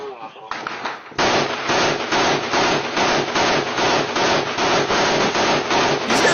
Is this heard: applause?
no